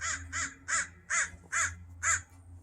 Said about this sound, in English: Hello, Mr. Crow.